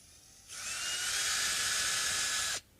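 An electric screwdriver whines steadily for about two seconds while backing screws out of Gibson Les Paul guitar hardware, starting and stopping abruptly in a quiet room.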